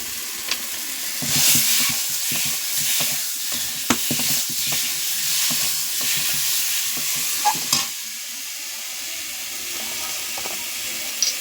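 Whole mangoes fry in a pan with Kashmiri red chili powder for a chutney, giving a steady close sizzle with repeated scraping stirs and occasional sharp utensil clicks, no talking.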